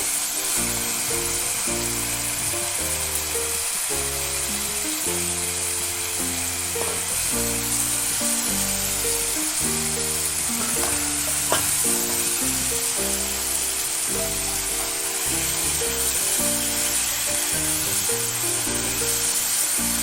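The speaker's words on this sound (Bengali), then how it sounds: "মশলাটা ভালো করে ভাজা হয়ে গেছে" Steady sizzling and hissing of spice paste for raw jackfruit kofta curry frying in hot oil runs throughout, continuous and fairly close, with occasional soft spatters.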